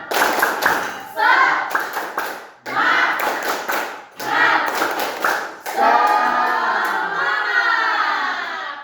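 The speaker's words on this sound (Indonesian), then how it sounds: "Dalam hitungan 1, 2, 3. Tepuk semangat." A classroom group does rhythmic spirit clapping in quick bursts with pauses between patterns, ending in a longer stretch of clapping, with some voices calling out alongside.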